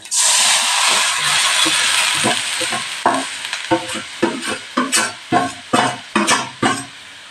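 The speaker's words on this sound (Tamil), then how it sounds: "தயிர் அதை கொட்டி கிண்ட வேண்டியதுதான்." Curd being stirred into cooked rice in a pot, wet squelching scrapes in a steady rhythm of strokes that grow more distinct and spaced toward the end, over an initial hiss.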